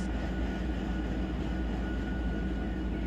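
SD70ACe diesel locomotives haul a coal train at around 11 mph in a train simulator game. A steady, deep, throbbing engine rumble carries a faint constant whine and continues without a break.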